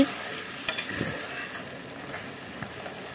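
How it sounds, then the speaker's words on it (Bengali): Fish and spices sizzle in hot oil in a wok, with a steady, fairly quiet frying hiss and a few soft stirring clacks. "এখানে কড়াইতে তেল দিয়ে সব মাছ দিয়ে মশলা ঢেলে দিয়েছি"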